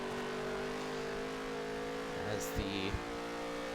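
Dirt track race cars roar around an oval in a steady engine drone, with a couple of brief sharper bursts near the end and a voice talking faintly underneath.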